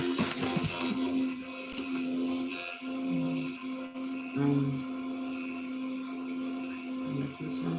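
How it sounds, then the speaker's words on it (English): A constant mechanical whirring hum with a steady tonal drone, like a computer cooling fan running nearby, with faint shifting noises over it. "It's the ventilator of my computer."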